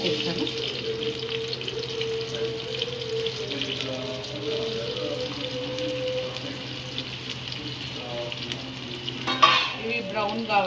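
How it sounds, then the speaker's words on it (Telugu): Chopped onions and green chillies sizzle steadily in hot oil in a home kitchen, with occasional stirring and clinks, heard close up throughout without talk. "ఆయిల్ వేడి ఎక్కాక ఇప్పుడు ఆనియన్ పచ్చిమిర్చి వేసేస్తాను"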